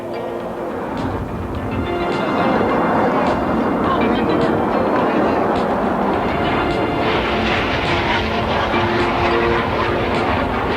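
A military jet on a solo pass at a 1986 air show at NAS Moffett roars steadily overhead with broad, rushing engine noise, while an announcer speaks over the public address system throughout.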